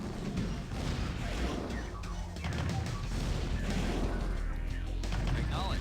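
Artillery in Command & Conquer Red Alert fires in repeated heavy booming impacts and crashes, loud and irregular, mixed with mechanical game effects and some speech.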